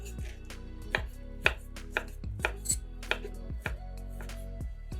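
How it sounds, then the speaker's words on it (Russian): A knife chops ham into small cubes on a cutting board in steady, evenly spaced strikes, close and crisp over a soft background hum. "200 грамм ветчины нарезаем небольшими кубиками."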